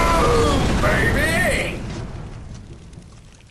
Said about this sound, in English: time to make some explosions! Boom, baby!